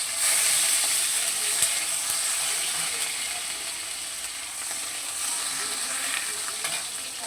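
Chopped onion hits hot oil and sizzles loudly, a bright crackling hiss that starts strong and settles into a steady fry with occasional pops and stirring scrapes, with no voices.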